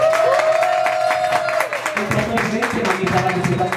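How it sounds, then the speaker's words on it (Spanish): An audience at a children's party talent contest claps and cheers for a contestant named Pía; scattered clapping and crowd noise rise under voices and a sustained tone, growing busier toward the end. "Entonces, aplausos por Pía."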